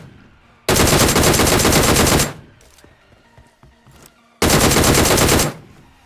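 A shooting video game fires two long, loud bursts of rapid automatic gunfire, with a quieter stretch of scattered small sounds between them.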